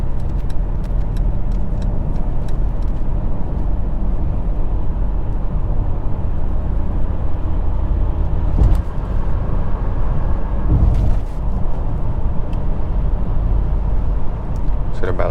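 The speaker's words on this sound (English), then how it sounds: "now we're in eco mode, so we're really going to eke out the maximum fuel economy performance in the GLE." A 2022 Mercedes GLE350 4matic SUV cruises in eco mode at about 70 in eighth and ninth gear, just above 2,000 RPM, with a steady, low cabin rumble of engine and road noise throughout.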